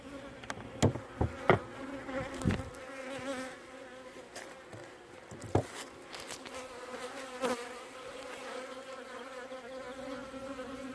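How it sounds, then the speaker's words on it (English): Bees from a captured swarm buzz busily and agitatedly at close range, a continuous drone with sharp clicks and knocks scattered through it. "Some angry bees that are still checking me out for some reason."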